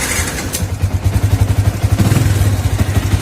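A cold Yamaha Vixion motorcycle engine idles close by with a rapid, even pulsing thump and light mechanical clatter, after a brief rev at the start.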